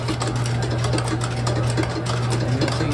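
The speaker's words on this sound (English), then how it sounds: "Now it's going to draw some water up." A steady mechanical hum of a Guzzler pump drawing water up through a tube runs continuously, with a low droning tone and a rapid buzzing rattle, no voices.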